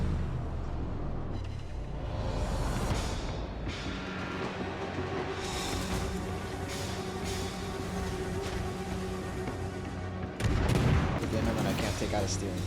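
Naval gunfire in the video game World of Warships, with heavy ship cannon booms and rumbling explosions running continuously and a loud burst near the end, under a voice talking.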